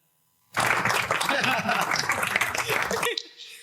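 A burst of clapping from a small group in a podcast studio runs for about two and a half seconds, loud and close, with some laughter mixed in, then cuts off abruptly.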